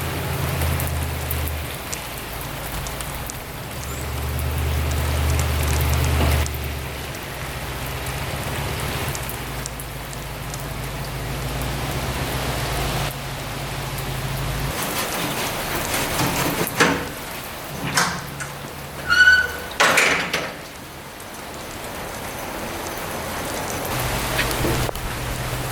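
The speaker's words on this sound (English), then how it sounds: "Of course it's pouring rain" Heavy rain pours down steadily outdoors around a trailer, a dense close hiss that runs throughout alongside a low rumble early on and a few louder knocks and scrapes near the end.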